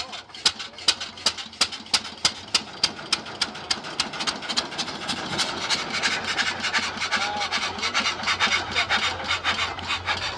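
A 1917 hit-and-miss engine running at an outdoor show, first a series of sharp, evenly spaced exhaust pops that quicken, then a denser continuous chuffing and rattle, close and fairly loud.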